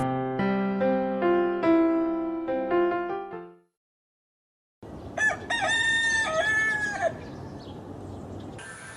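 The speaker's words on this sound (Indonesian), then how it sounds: "di samping rumahnya terdapat kandang unggas" A rooster crows loudly nearby in a poultry coop beside a house, one full crow followed by a short silence and then a second, harsher crow over a noisy outdoor background.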